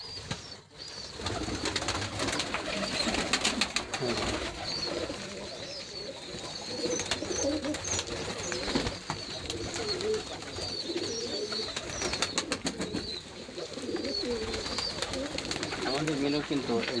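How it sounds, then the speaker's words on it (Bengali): A native dove coos repeatedly amid ongoing bird chatter, and a person talks intermittently over the birds throughout. "এই দেখুন ঘুঘু, ওটা আবার দেশের ঘুঘু"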